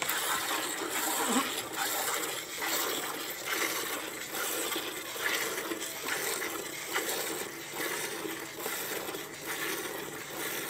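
Milk streaming into a metal pail as a buffalo is hand-milked outdoors in Punjab: a soft, rhythmic hissing spray pulsing steadily and continuously, moderately close with no talk.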